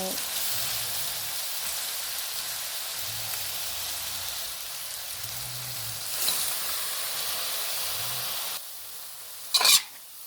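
Cabbage and pork stir-fry in a hot pan, a continuous close sizzle with soft spatula scrapes and stirring, ending with a sharp clatter.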